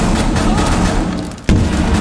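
Rapid shotgun blasts ring out in a Rainbow Six Siege match, a dense run of loud booming shots with one sharp heavy blast near the end.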